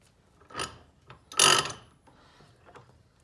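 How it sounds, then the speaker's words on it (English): Copper cable lug being crimped onto wire with a clamping tool: two brief mechanical crunches, the second louder and longer, close up in a quiet room. "I'll just kind of clamp the wire down a little bit just to where it'll hold it there."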